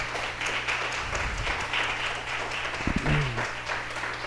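A church congregation applauds at a Yom Teruah service, a faint, brief patter of clapping with some murmuring voices in the background.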